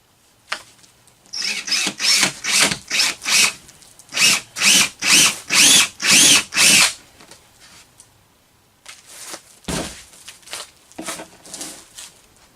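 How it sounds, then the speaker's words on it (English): Power drill cutting successively larger holes through the plastic wall of a tote, two long runs of rapid rhythmic pulsing whirs, then a pause and a rougher, uneven final bout of drilling. "This allows me to drill successively larger diameters until I can fit the pipe nipple in"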